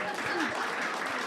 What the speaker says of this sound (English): Clap in unison